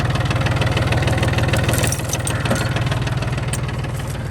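An old John Deere tractor engine runs steadily at a low, chugging idle while hooked by chain to a 1975 Chevy C10 truck, its loud, rhythmic knock continuous and close throughout with no talk.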